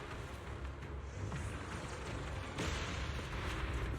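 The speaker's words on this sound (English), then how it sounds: "Explosions are becoming more frequent." Explosions rumble during the Girtabulu battle in the sci-fi action video game Zenless Zone Zero, a dense, continuous roar of booms and blasts with a heavier burst near the end, no voices.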